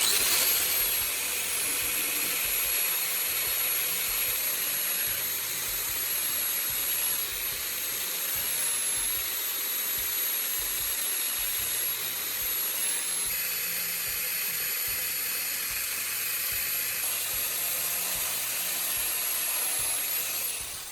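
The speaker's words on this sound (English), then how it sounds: "Take the lamp cap and carefully cut a wide ring around the top with a small cutting tool" A small rotary cutting tool cutting a ring into the lamp cap of an LED bulb, a loud, close, high-pitched whine that runs steadily, with slight dips and rises in pitch as the tool bites into the cap.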